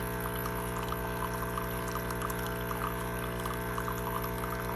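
A Cuisinart Barista Bar 4-in-1 coffee machine runs with a loud, harsh motor drone that stays steady and continuous throughout, with a rough buzzing edge and no voices over it.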